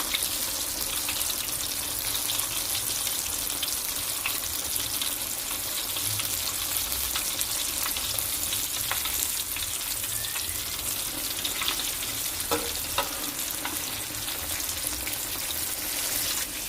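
Two pieces of chicken deep-frying in a modest amount of oil for ayam geprek, a steady dense sizzle and crackle filling the whole stretch with occasional pops, close and continuous with no talking.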